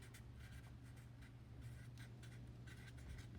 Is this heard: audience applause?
no